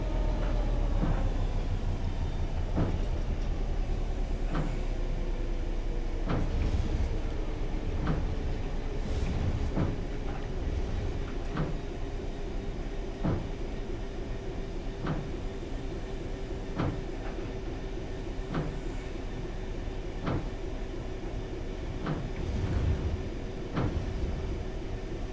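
DRS Class 66 diesel locomotive hauling nuclear flask wagons along the Riviera Line in rainy weather in a train simulator game, a steady low engine drone with regular rhythmic clunks of wheels over rail joints throughout.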